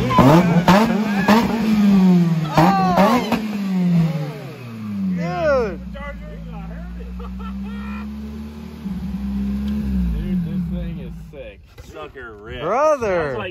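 A Chevrolet Cobalt street car running on E85 revs hard nearby, its engine note rising and falling through several sharp pulls while people talk excitedly over it.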